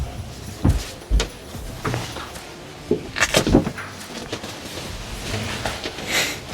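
Cabin door on an Axopar 38 boat at an indoor boat show, sliding and thudding with several distinct knocks and clunks over a low background murmur.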